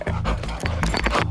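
A dog panting rapidly and steadily up close at an airport customs search, with rhythmic breathy bursts running through the whole moment.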